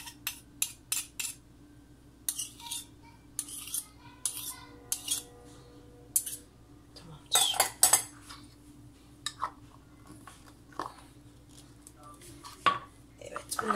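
A spoon scrapes and clinks against a dessert dish while an Oreo magnolia is being made: a series of short, sharp scraping strokes in irregular bursts, close up, with no talk.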